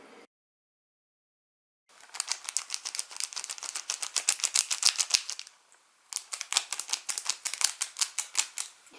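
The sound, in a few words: handling foil of Yu-Gi-Oh card booster packs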